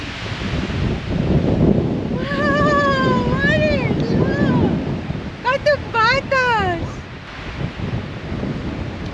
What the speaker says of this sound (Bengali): এখানে যে কি পরিমাণে বাতাস, মনে হচ্ছে যে আমি উড়ে চলে যাব